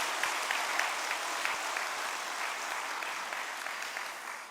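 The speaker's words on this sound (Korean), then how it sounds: "이분들을 위해서 박수 해주시기 부탁드리겠습니다." A congregation at a church appreciation service for a research institute's outgoing leaders gives a long, even round of applause, moderately distant and gently fading toward the end.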